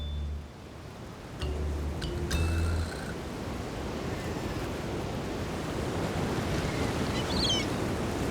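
Ocean surf rolling onto a rocky shore along the Atacama Desert coast of Chile, a steady wash of breaking waves with a few faint higher tones early on.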